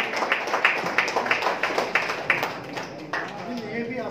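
Rhythmic clapping for an award recipient at a community service awards evening at the Academy of Fine Arts, a steady run of hand claps mixed with voices talking throughout.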